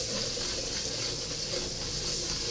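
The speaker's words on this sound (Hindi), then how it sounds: "अभी ये मसाला हमारा फ्राई हो रहा है, ब्राउन हो रहा है" Masala for beef nihari fries and browns in a pan, a soft, steady sizzle and hiss that carries on evenly without any break.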